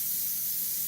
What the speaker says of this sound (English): I'm going to spray it lighter